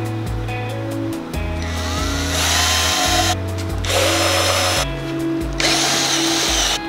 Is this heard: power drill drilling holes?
yes